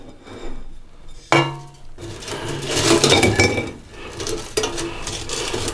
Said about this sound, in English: All we need to do is put them in a bowl.